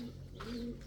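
Indian fantail pigeons coo inside a loft, a low steady rolling coo running close and clear for the whole moment with no voices.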